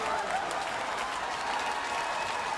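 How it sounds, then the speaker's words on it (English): Orioles fans in a Baltimore ballpark give a standing ovation, a steady, dense wash of clapping and crowd noise heard from a distance, with no pause across the short stretch. "Got a standing ovation from the Oriole crowd, too."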